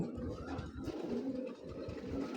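Pigeons and young pigeon squabs coo softly in a loft, a low steady murmur of cooing close by with no talk over it.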